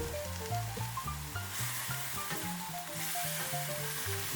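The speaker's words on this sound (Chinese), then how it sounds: "快速翻炒几下，整道菜就充满了酱色，呈现漂亮的光泽" Beef with pickled cabbage and scallion greens stir-fried in a pan, giving a steady, moderately quiet sizzle with soft scraping from stirring, faint tonal music underneath and no talking.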